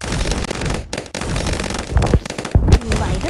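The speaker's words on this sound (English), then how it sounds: "Fire burst" A fire burst attack goes off in the Bloons Adventure Time TD tower-defense game during a Christmas event: a dense volley of crackling, popping blasts with sharp bursts, loud and continuous over busy game sounds.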